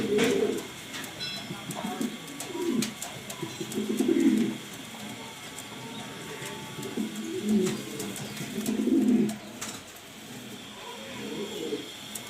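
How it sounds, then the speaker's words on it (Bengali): Pigeons of an uncommon breed, kept for sale and partway through molting, coo in repeated low rolling phrases at close range, with faint talk and background noise around them. "খুবই সুন্দর একটা আনকমন কবুতর।"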